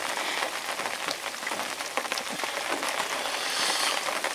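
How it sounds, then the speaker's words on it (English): Steady rain pattering on the surface beside a carp fishing lake at Linch Hill's Willow Lake, a dense, constant hiss of drops up close with no voices. "wish this rain would stop now"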